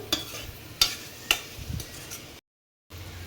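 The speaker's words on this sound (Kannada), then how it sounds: "ಇದನ್ನಿವಾಗ ಲೋ ಫ್ಲೇಮಲ್ಲೇ ನಾವು ಈ ರೀತಿಯಾಗಿ ಮಿಕ್ಸ್ ಮಾಡ್ಕೋಬೇಕು" A spoon scrapes and clinks through paneer pepper dry in a pan over a low flame, making a few distinct close taps and stirring scrapes over a faint sizzle, then a short silent gap.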